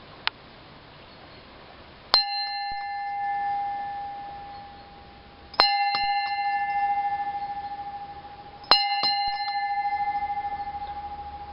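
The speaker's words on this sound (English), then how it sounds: "I'm now going to ring the bell 3 times" A 5-inch brass ship's bell is struck three times with a traditional rope ringer. Each clear, bright clang rings on and fades slowly before the next, with the strikes a few seconds apart.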